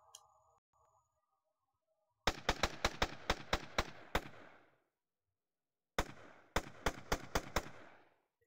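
Guns fire on a VR shooting range game: one rapid volley of about eight sharp, loud shots, a pause, then a second volley of about six, with near silence beforehand.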